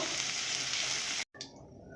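Carrots and beans frying for fried rice give a steady, close sizzle that cuts out abruptly for a moment, then resumes more softly.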